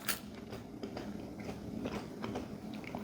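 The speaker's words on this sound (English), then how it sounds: "You're gonna be chewing a little bit on this crust." Close, crunchy chewing of a New York City pizza crust, with a steady run of soft bites and grinding through the whole stretch and no talking.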